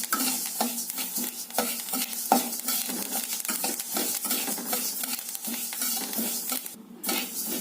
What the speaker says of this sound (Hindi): अलसी से आवाज आने लगा है चटर पटर का